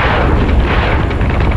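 A warship gun firing in the space combat game Battlestar Galactica Deadlock, heard as a loud, dense, sustained boom with heavy rumble filling the whole moment, no talk over it.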